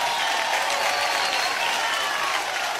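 Roaring applause from a large crowd at a Filmfare event for Deepika Padukone and Salman Khan, a dense, continuous wash of clapping and crowd noise at steady loudness throughout.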